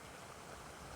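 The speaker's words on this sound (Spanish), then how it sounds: "Ahí nace ese río" Water at the source of a river gives a steady, soft rushing stream noise, continuous and fairly quiet, with no talking.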